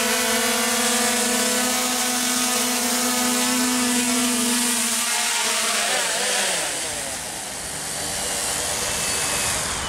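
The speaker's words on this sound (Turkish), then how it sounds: "drone sapasağlam oyuncaklarla beraber indi değil mi Işıl?" A Xiaomi Mi 4K drone carrying toys flies and then lands, giving a loud, steady buzzing whine close by that shifts in pitch and dips briefly as it comes down.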